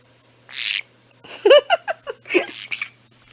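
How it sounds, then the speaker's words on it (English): A pet parrot gives a burst of close, sharp calls: one short squawk, then a quick run of warbling chirps and whistles in an uneven rhythm, fairly loud in a quiet room. "I can hear my little birds waking up under my sweatshirt, so I might be having a parrot scream"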